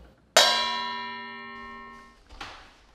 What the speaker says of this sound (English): a miter saw that I hit with a wrench